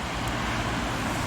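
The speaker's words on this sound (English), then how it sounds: "I'm sorry about the sound of the traffic." Road traffic rumbles past near a churchyard at St John the Baptist Church, a loud continuous broadband roar of passing cars with no pauses and no speech.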